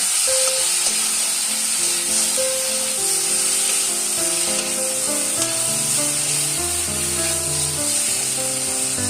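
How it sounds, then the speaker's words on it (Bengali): Chopped onion fries in a pan while it is stirred, making a steady, even sizzle that runs unbroken throughout while music plays over it. "এবার সামান্য একটু পেঁয়াজ আমি দিয়ে দেবো, কুচানো পেঁয়াজ। দিয়ে আবারও নাড়ব।"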